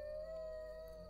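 A dog's long, steady howl from The Witcher video game, one sustained tonal note held through the whole short moment, loud and alone over a faint background drone.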